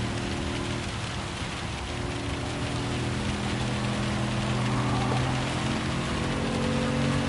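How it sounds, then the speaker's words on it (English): Steady rain pours down in a Gran Turismo 7 race scene driving a Toyota Tundra TRD Pro, a constant close wash of drops on the surface with a low rumble beneath, no distinct thunder crack standing out. "I can hear the thunder"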